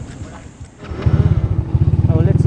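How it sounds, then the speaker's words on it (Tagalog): A motorcycle engine idles nearby with a rapid, throbbing putter that grows louder and steadier, a voice briefly heard over it. "Balik na tayo sa motor natin."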